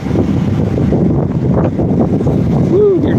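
Gusting wind buffeting the microphone outdoors, a loud, low, rumbling roar that swells and churns steadily throughout, close and unbroken.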